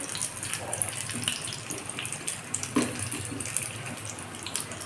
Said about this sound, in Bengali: সাইড সাইড সুন্দর করে ভেজে নিতে হবে